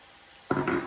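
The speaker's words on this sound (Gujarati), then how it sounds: "ચાસણી આપણી સરસ ઉકળવા લાગી છે" Sugar syrup with saffron and cardamom powder boils in a pan, giving a sudden burst of bubbling sizzle that starts halfway through and stays loud and close to the end of the brief moment.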